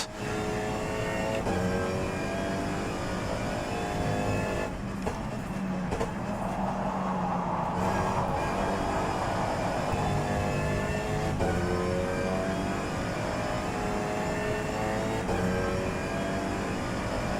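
Race car engine in the rFactor 2 racing game during an Alpine Cup race at Donington, a loud continuous droning whine with shifting pitch held throughout.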